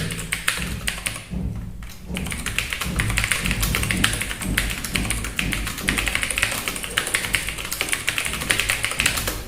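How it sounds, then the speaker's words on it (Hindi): Rapid continuous typing on a computer keyboard: dense, fast key clicks and taps close to the listener, with a brief pause and then steady clattering keystrokes. "ये इस तरीके से कीबोर्ड चलते हैं।"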